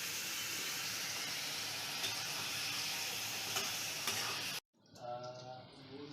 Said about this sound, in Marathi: आता हिला फिरवून घ्यायची मेथी आपली चांगली.